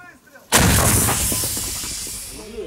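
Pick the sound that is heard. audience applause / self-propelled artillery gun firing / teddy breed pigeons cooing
self-propelled artillery gun firing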